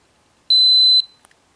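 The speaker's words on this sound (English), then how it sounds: "I can hold it 3 seconds until I hear a long beep sound" A Polaroid wireless transmitter gives a single sustained electronic beep on power-off, loud and clear, lasting about half a second, followed by a brief faint chirp in an otherwise silent room.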